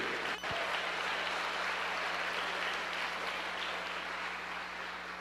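A church congregation applauds the Lord, a broad, even wash of clapping sustained for about five seconds, fairly distant and diffuse, with one sharp knock near the start.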